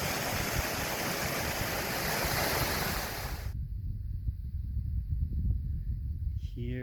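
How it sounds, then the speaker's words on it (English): A mountain waterfall on the Pacific Crest Trail roars loud and steady at close range, a dense rushing wash of water that cuts off abruptly halfway through, leaving quieter outdoor ambience with faint sounds near the end. "holy cow, a gorgeous waterfall right here."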